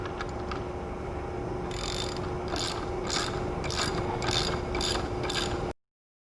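A cheap, somewhat dangerous spring compressor is ratcheted down on a car strut's coil spring, giving a series of close, rhythmic metallic clicks over a steady low hum, with no talking.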